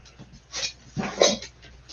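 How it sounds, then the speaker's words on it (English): A dog snuffles and breathes close by in two short bursts, soft sniffing or panting sounds with quiet pauses between. "There's a dog."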